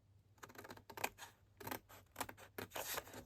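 Scissors cutting card stock up to a score line, a series of crisp snipping bursts close up, several separate cuts in an uneven rhythm with no talk.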